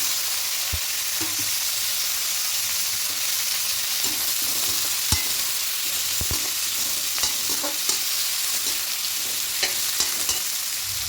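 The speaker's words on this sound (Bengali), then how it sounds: "এবার এখানে পেঁয়াজ কুচি লঙ্কা কুচি দিয়ে দেবো" Chopped onion and green chili frying in oil in a pan, a steady close sizzle punctuated by repeated knocks and scrapes of a stirring spoon, with no voices.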